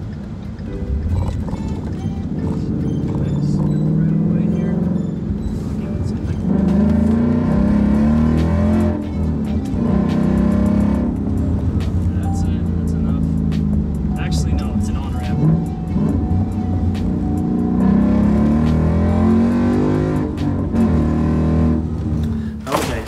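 Wrecked Ford Mustang GT driven slowly on a road, a steady low engine drone with rhythmic knocking and clunks, with someone talking over it throughout.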